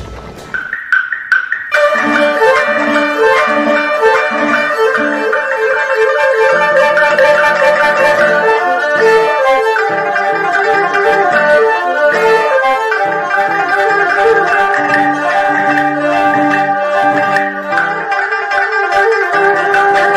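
A folk music ensemble plays the piece Horse Racing, a 1960s composition in a new arrangement, at a folk arts showcase: loud, sustained, busy melodic instrumental playing with fast repeated figures throughout, no talk.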